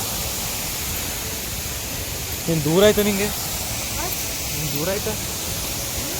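Soormane waterfall at Kalasa, Chikkamagaluru, in monsoon, a steady broadband roar filling the whole clip at moderate level, with people talking briefly over it midway.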